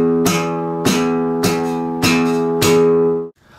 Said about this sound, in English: And just slap many times to kind of get used to the feel.